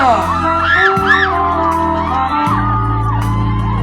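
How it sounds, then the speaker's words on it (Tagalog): Loud crowd at an outdoor community mommy pageant final announcement in a Batangas village, with whoops, shouts and cheering over booming amplified music, dense and close throughout. "Malakas na palakpakan at sigawan!"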